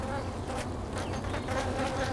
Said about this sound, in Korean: 일본 꿀벌은 용감하게 몸집이 몇 배는 될 듯한 말벌에게 덤빕니다